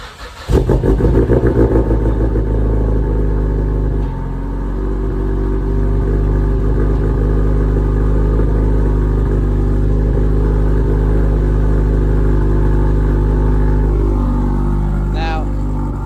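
A Mazdaspeed 3 engine idles loudly and steadily up close, a continuous low rumble with a faint higher-pitched squeal near the end.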